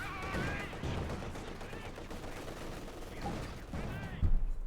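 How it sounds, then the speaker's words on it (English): A rifle grenade goes off in Company of Heroes 2, a sharp blast landing near the end amid steady battlefield gunfire, with a commentator talking throughout. "Rifle grenade off"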